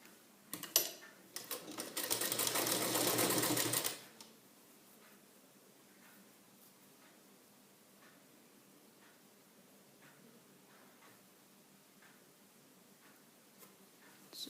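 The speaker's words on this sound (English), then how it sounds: "You see to it you are stitching on both the layers." A sewing machine runs in a short loud burst of about three seconds, stitching through layered blouse waistband fabric, then falls away to faint ticking and quiet handling.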